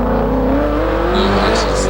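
Ford Falcon race car powering out of a hairpin at a lakeside hillclimb, its engine note climbing steadily as it accelerates, loud and fairly near, with a commentator talking over it.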